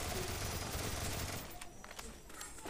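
Rapid gunfire rattles in bursts in Free Fire Max zombie mode, the shots firing at zombies over a dense game soundtrack before thinning into scattered cracks.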